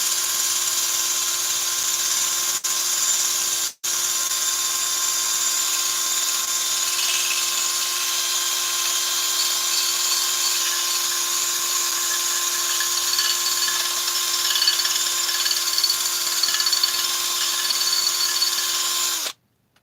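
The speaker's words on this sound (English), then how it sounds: "So I'm just going to gently just Scotch-Brite." A Scotch-Brite pad on a power tool whines steadily and evenly as it scuffs a Stihl 660 chainsaw crankcase, with a brief pause early on, close up and without speech.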